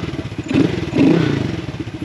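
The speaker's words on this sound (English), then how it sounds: "It's got such a low idle to it, which I love. Give it a little gas." A motorcycle engine just after start-up, at a low thumping idle, close and loud, given two short blips of throttle that swell the pulsing rumble before it settles back.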